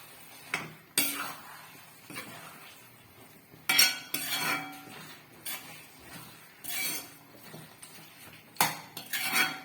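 Mushroom masala being stirred in a pan for a roadside-style Tamil kalan dish, with a spoon or spatula scraping and clinking against the metal in irregular bursts, moderately loud and close, with no talking.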